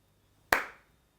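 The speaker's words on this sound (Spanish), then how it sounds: "Yo escuché aplauso." One single sharp clap of the hands rings out, close and crisp, and fades quickly into quiet.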